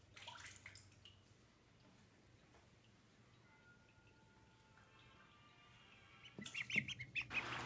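Ducklings swim in water, quiet at first with light ticking and faint tones, then splashing and soft peeping rise loud near the end.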